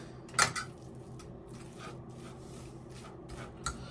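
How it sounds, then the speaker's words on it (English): Food is stirred in a pan while making a gluten-free steak and cheese pizza, giving a few sharp utensil clinks against the pan amid soft scraping and rustling, with no talking. "So go ahead and stir that."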